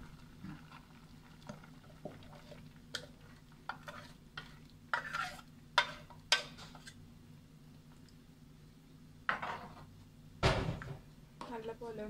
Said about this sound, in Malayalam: നല്ലപോലെ ഒന്ന് മിക്സ് ചെയ്യാം.